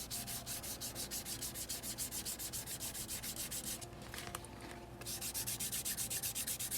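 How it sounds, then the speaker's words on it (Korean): A card wallet edge is sanded flat in a quick, even back-and-forth rhythm, close and steady. There is one short pause near the middle before the strokes resume. "이렇게 평면으로 이렇게 갈아주시면 됩니다"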